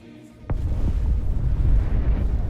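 Firecrackers burst in a thriller film scene, opening with one sharp loud crack, then a dense continuous rumble of further bursts and booms rolling on without talk.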